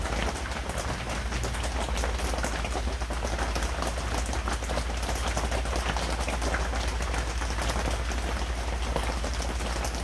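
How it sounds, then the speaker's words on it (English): Steady rain drums on a tent cabin roof at a campground below Yosemite Falls, a dense, even patter that continues throughout with no voices. "Hear the rain."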